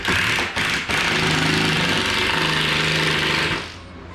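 A power drill countersinks screws into subfloor during a floor repair, giving a loud, steady motor whine that runs for about three seconds with a couple of brief dips early on, then winds down.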